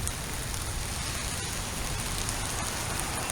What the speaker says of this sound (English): The rain's a little gentler now.